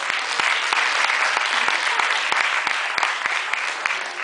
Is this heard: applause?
yes